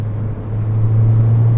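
Mini Cooper S cruising at highway speed around 80 miles an hour, a loud steady low engine drone with road rumble filling the cabin, constant and unbroken, with no talk.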